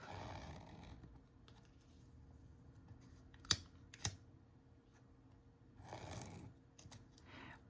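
Scissors snip through the top of a cardboard box while trimming planner pages, two sharp close cuts in quick succession followed by a softer rustling snip, against a quiet room.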